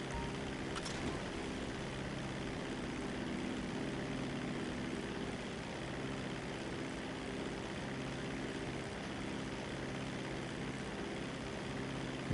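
Propeller plane flying in GTA V Online, a steady, droning engine hum with a constant buzzing tone that holds evenly throughout without pause.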